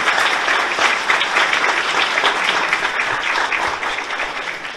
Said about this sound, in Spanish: quiero pedirles un fuerte aplauso para toditos estos nuestros artistas